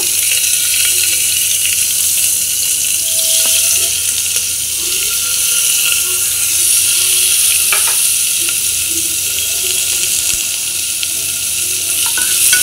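Onion and tomato hitting hot oil in a pan while cooking white pea usal, a steady loud sizzle with faint stirring and no talk.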